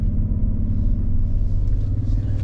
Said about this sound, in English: I'm going to get on the throttle a little bit and watch this jump up.